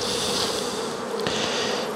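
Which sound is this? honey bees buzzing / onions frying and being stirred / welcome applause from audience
honey bees buzzing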